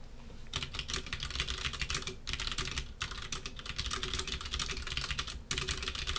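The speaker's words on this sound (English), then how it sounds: "So maybe I can start typing this." Steady, rapid typing on a computer keyboard during a computer science lecture, continuous clatter of keystrokes with two brief pauses, close and clear with no talking.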